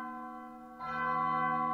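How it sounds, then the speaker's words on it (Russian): Church bells in the video game Undertale, sustained tonal ringing that swells louder partway through as a fresh strike layers over the fading hum, clear and unaccompanied by voices. "Колокола. Мы в церкви"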